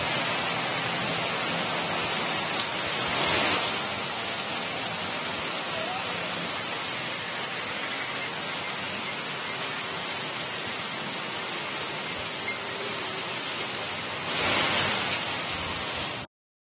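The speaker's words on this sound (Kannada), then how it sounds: "ಇಂದು ಸಂಜೆ ಸಿಲಿಕಾನ್ ಸಿಟಿಯಲ್ಲಿ ಸುರಿದ ಮಳೆಗೆ ವಾಹನ ಸವಾರರು ಹೈರಾಣಾದರು" Heavy evening rain pours down in Bengaluru, a steady, dense wash of noise that stays loud and unbroken throughout, swelling briefly a couple of times with nothing else standing out.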